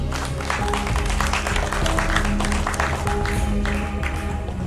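Audience applause at an evening gathering in Mojokerto about renaming the regency Majapahit, a dense steady wash of clapping with crowd noise and some voices underneath, loud and continuous throughout.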